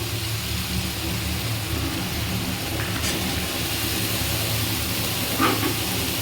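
Vegetables for matar paneer hiss and sizzle steadily as they go into a pan with ground ginger and cumin paste, a constant, even frying noise with no talking.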